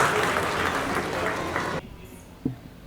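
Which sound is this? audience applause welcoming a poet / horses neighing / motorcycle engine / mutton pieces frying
audience applause welcoming a poet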